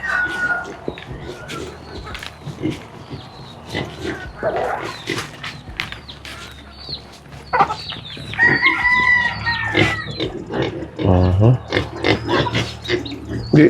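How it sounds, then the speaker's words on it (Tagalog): Large pigs on a farm in the Philippines grunt and squeal loudly and close by, mixed with chickens clucking and a rooster crowing, in a busy, overlapping barnyard chorus. "Tingnan natin yung baboy."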